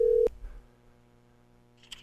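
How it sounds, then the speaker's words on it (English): A telephone line tone on an outgoing call: one short, loud electronic tone that cuts off quickly and leaves a faint steady hum on the line. A tiny click follows near the end. "One ringy dingy, as Shelley would say."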